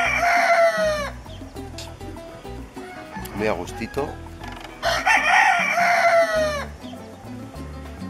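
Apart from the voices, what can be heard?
roosters crowing and hens clucking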